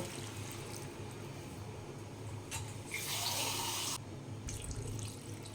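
Water runs steadily from a tap into a pot of chicken curry with carrots and potatoes, a continuous close splashing fill that swells louder for about a second near the end before easing back.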